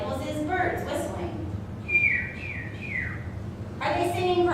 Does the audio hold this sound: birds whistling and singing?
yes